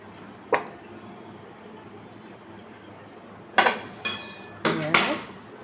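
Cooked fish being stirred in a pan, a few sharp metallic clinks and scrapes of a utensil against the pan, with quiet stretches between the knocks.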